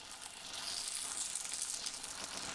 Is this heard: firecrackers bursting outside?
no